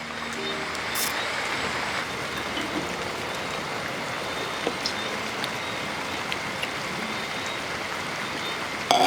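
Steady rain falling, a continuous dense hiss of drops on surfaces with no pauses, fairly even in loudness throughout.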